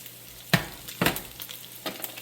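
Cubed ham steak dropped into a hot pan and stirred, a quiet sizzle broken by three or four bursts of scraping and crackle, close by with no voices.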